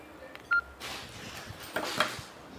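A phone keypad gives a few short dialing beeps while calling an iPhone, faint against a quiet room, followed by soft rustling and handling noises.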